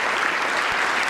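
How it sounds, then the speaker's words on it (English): An audience breaks into loud, continuous applause, a dense wash of clapping hands filling the room without pause. "Probably the easiest applause of the night"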